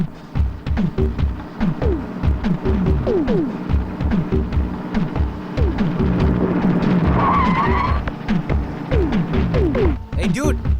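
A car drives fast along a road with repeated tire skids and revving engine sweeps, loud and continuous throughout, with voices talking over it.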